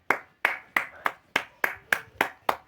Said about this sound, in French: J'applaudis de mes mains.